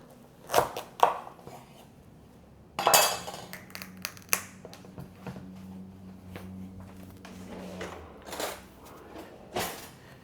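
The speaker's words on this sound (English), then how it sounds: "we're going to start with a small butternut squash that we're going to cut in half" A knife cuts a small butternut squash in half on a cutting board. Sharp thuds and clacks of the blade hitting the board land irregularly, close and fairly quiet, with a brief scraping rattle between them.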